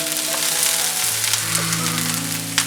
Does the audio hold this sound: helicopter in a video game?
no